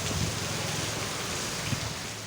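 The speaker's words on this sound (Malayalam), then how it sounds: "ഒരു 5 മിനിറ്റ് കഴിഞ്ഞപ്പോഴത്തേനും മഴ പെയ്തേ." Steady rain pours down in a dense, even hiss of falling drops that sounds close and unbroken throughout.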